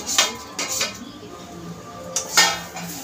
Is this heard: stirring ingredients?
yes